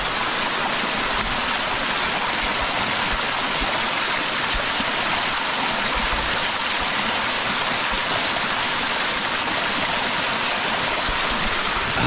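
A mountain waterfall and stream on Mt. Kulago in Impasug-ong, Bukidnon pour and rush without pause, a loud, dense broadband roar of falling water filling the whole span with no talking.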